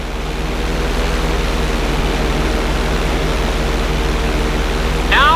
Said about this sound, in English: When you're fully inverted, then roll the plane over.